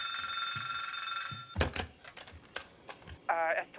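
A telephone rings with a steady electronic tone in a scene from the TV series Pluribus, then stops as thumps and voices follow, with another short ringing burst near the end.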